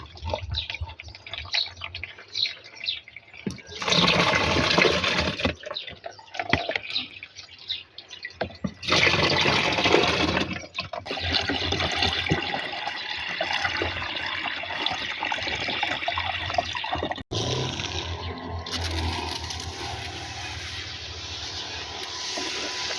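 Water gushes and splashes in loud bursts while rose treatment preparations are diluted in 8 litres of water, with quieter dripping and trickling between the pours and no talking.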